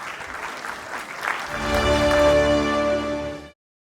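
Audience at a school investiture ceremony applauds, a broad patter of clapping that swells as a sustained tonal musical sound enters, then cuts off abruptly near the end.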